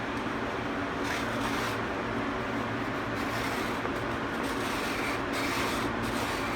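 The dovetail slide of a band saw circle-cutting jig is worked back and forth, giving a steady, quiet, close rubbing and scraping with no speech.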